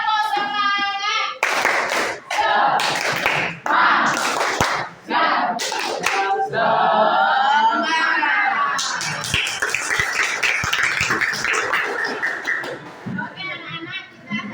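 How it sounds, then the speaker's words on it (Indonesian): A school class performing a rhythmic Indonesian spirit clap (tepuk semangat), loud patterned bursts of hand claps alternating with children's chanting voices, close and energetic. "Tepuk semangat."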